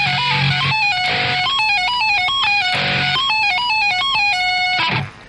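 A distorted electric guitar plays a heavy riff with fast dissonant tapped notes, loud and close, the bright stepping pitches cutting off abruptly at the end.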